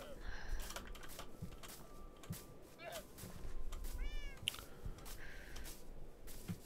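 Minecraft cats meow in short, faint in-game calls scattered over busy clicking and key tapping, with several separate mews across the stretch.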